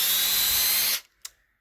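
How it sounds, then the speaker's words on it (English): A small 1/16 inch bit drilling a hole into a seam for a poi build, the power drill whining steadily at close range for about a second before cutting off, followed by a brief faint knock. "get a small, like 1/16 inch drill bit or so, and then go right on the seam and then drill a hole into it"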